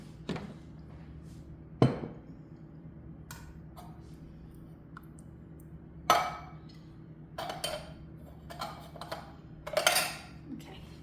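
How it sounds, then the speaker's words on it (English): A spoon scraping the bottom of a pot of simmering beef tips in gravy, heard as several faint, scattered clinks and scrapes over a low background hum. "I'm going to scrape it some more."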